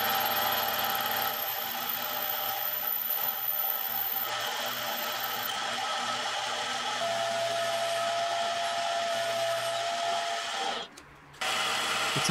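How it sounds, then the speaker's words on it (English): A steady machine whine of drilling a hole in a ring continues without a break, with a brief dip in the noise near the end before it resumes. "Now I'm drilling a hole for the inside"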